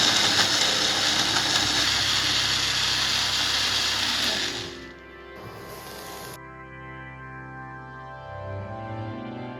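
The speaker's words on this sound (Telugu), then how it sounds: "ఈ టమాటాలు మిక్సీలో వేసుకుని అదేవిధంగా ఒక మూడు పచ్చిమిర్చి ఒక చిన్న కప్పుడు పెరుగు ఈ మిశ్రమాన్ని మనం మిక్సీ చేసి పెట్టుకుందాం" A kitchen mixie grinds tomatoes, three green chillies and a small cup of curd, a loud steady whirring roar for about five seconds before it cuts off, leaving quieter kitchen sounds.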